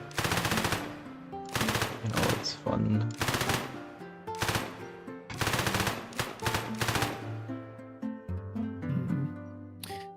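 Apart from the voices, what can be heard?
SMG gunfire sound effect from a video game in development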